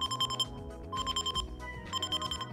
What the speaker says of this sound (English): what are some of the alarm sounds on this thing?